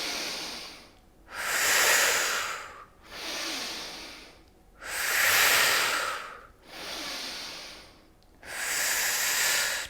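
Slow, deep yoga breaths alternate between inhaling and exhaling, with six long breathy whooshes about 1.5 seconds each separated by short pauses, close and steady in rhythm.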